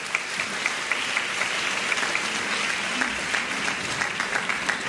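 Moderately quiet applause from an audience at a French talk, a steady wash of many hands clapping with a few sharper individual claps standing out.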